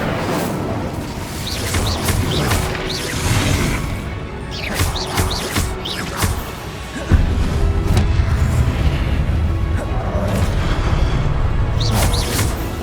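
Fiery spell blasts from a wand in Hogwarts Legacy during Percival Rackham's Trial, a run of loud crashing, booming bursts layered with crackles and whooshes amid constant game noise, with a heavier surge near the end.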